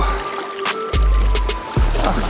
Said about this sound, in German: Hier kommt jetzt ganz schön Welle durch den Wind.